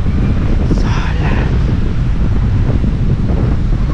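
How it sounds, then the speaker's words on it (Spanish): Strong wind buffets the microphone on a deserted beach in the Islas de Loreto, Baja California Sur. The roar of rough surf sits underneath, steady and loud throughout. "con semejante aire y oleaje"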